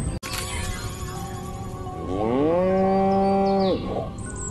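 A video game cow lets out one long, loud, drawn-out moo after a sharp click, ringing clearly over a steady electronic backdrop with no talking.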